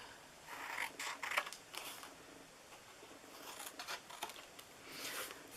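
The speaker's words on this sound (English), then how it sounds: "I'm used to my long scissors, my ribbon scissors for this," Long ribbon scissors slice through paper for the bottom of a small gift box, a few quiet crisp swishing cuts against a faint background hiss.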